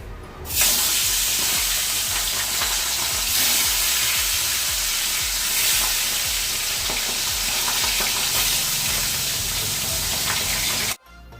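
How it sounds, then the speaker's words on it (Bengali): Fish frying in a pan gives a continuous loud sizzle and spitting crackle, steady and close, with occasional stirring scrapes and no talking. "একদিকে ডাল বসিয়ে দিয়েছি আর একদিকে করছি মাছ ভাজা"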